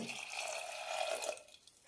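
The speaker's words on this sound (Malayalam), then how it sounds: "മുതിര മൂങ്ങുന്ന വിധത്തിൽ വെള്ളമൊഴിക്കാം" Water is poured into a pot of horse gram seasoned with salt and turmeric, a close, splashing stream that builds and then tapers off near the end.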